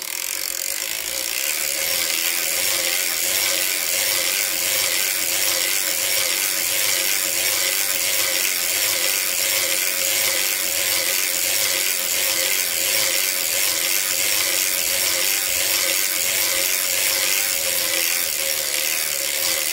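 A circular sock knitting machine is cranked continuously, producing a loud, close, rapid ratcheting clatter of needles and gears with a steady repeating rhythm and no talking.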